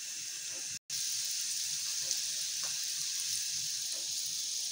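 An aloo paratha fries in a hot pan with a steady, close sizzle that carries on without a break. A brief silent gap comes early, and no one speaks.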